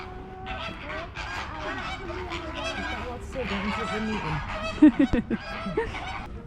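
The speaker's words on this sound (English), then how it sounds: "Some very noisy flamingos." Flamingos at a zoo honking noisily, a near chorus of overlapping nasal goose-like honks and clucks with a few sharper calls toward the end, a person's voice talking over them.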